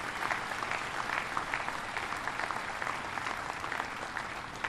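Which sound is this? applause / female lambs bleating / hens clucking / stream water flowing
applause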